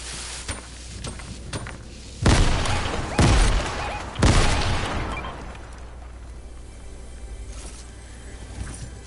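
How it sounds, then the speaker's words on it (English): Grenades blast inside a house in a video game, three loud close booms spaced about a second apart, each trailing off into a rumbling decay, followed by quieter ambience. "I'm gonna go ahead and nade this house real quick."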